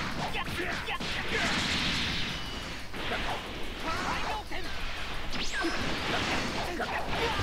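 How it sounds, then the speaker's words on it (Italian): Super explosion attack in a Dragon Ball video game, with repeated crashing blasts and whooshing impacts over a continuous noisy battle bed while someone talks throughout. "Super esplosione"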